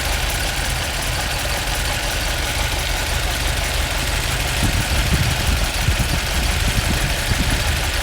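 A 1956 Alfa Romeo Giulietta Spider engine idles steadily up close, a constant low mechanical hum with a rougher, slightly uneven burble in the second half, and no talk over it.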